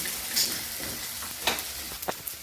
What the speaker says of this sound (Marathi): जिरे मोहरी टाकून घेतलेले आहे आणि एक कांदा एक टमाटर असं परतून घ्यायचे फोडणीमध्ये